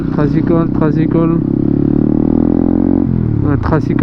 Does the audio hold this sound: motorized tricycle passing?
yes